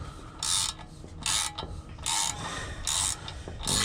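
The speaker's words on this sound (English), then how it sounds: "now I'm gonna crack the bolts loose on the ball joint" A ratchet works loose the two ball joint bolts on a Volvo P2 front suspension (S60, S80, V70, XC70), giving bursts of raspy clicking in repeated strokes, close up with no talking.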